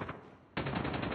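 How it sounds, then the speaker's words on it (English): A sentry gun fires in Call of Duty, a sudden loud stream of rapid automatic shots that starts halfway through after a quieter lead-in and keeps going steadily. "Sentry gun deployed."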